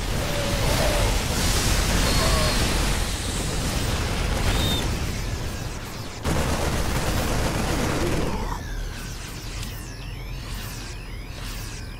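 Siege tanks and stimmed bio units fire in a StarCraft II Terran versus Zerg battle against roaches and hydralisks, a loud, dense roar of overlapping shots and blasts that thins later into sharper chirping weapon sounds.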